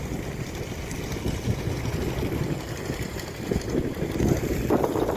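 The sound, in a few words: gusty stormy wind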